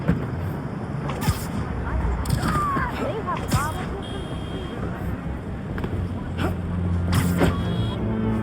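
Steady broadband rumble of street traffic fills the background, with a few passing swells, while people talk over it nearby.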